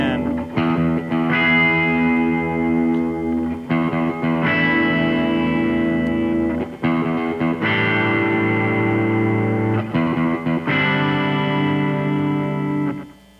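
Electric guitar chords with light distortion and chorus effect, from a song lesson, played loud and close as four sustained strummed blocks separated by brief breaks.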